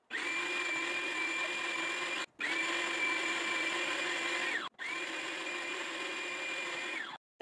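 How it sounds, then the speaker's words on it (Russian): An electric meat grinder mincing tomatoes and garlic for satsebeli sauce, a loud steady motor whine in three long runs separated by brief pauses. "Помидоры и чеснок я пропускаю через мясорубку."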